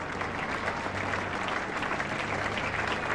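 Spectators applaud at a 1975 England v Australia Test match at The Oval, London; steady, dense clapping from a large crowd fills the whole stretch at an even level.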